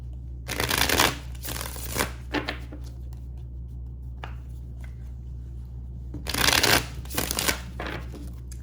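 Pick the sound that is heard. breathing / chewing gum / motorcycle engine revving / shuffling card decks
shuffling card decks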